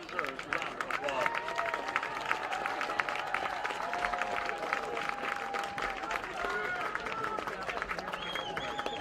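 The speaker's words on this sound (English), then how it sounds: "Everyone, please join me in giving our outstanding faculty and staff a well-deserved round of applause." A school audience applauding faculty and staff, a steady dense wash of clapping from a large crowd that carries through the whole stretch without a break.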